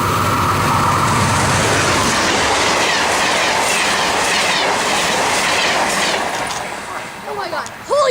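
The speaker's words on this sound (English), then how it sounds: "Yeah, that's a P42." A P42 diesel locomotive and train roar loudly through a station in the early morning, with steady rumbling and clickety-clack wheel noise that fades toward the end, followed by people exclaiming over it.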